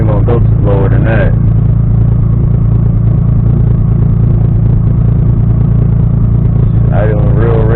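A just-started car engine, not yet warmed up, idles loudly and steadily with a rough, throbbing low rumble while running rich, and someone talks briefly over it near the start and end.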